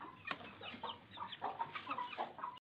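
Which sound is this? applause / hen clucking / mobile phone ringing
hen clucking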